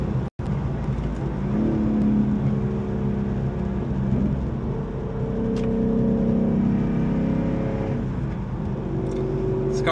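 A 2024 Ford Mustang GT with the 5.0 V8 accelerates hard, its engine note climbing through the revs and shifting gears in a loud, sustained roar heard from inside the car.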